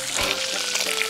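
Food pan-frying at a campsite, with a steady, close sizzling hiss that stays even through the short moment and has no talk over it.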